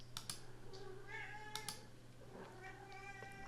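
A bored pet cat meows several times in the background, faint drawn-out cries mixed with soft computer keyboard typing clicks in a quiet room.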